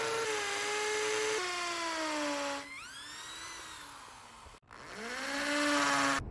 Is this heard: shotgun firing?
no